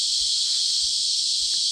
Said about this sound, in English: Cicadas in their thousands.